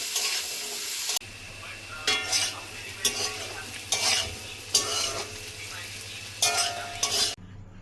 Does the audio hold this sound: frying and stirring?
yes